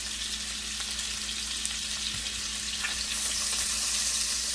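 Short ribs searing in a hot pan just after being flipped, a continuous bright, crackling sizzle that swells slightly louder toward the end, with no speech.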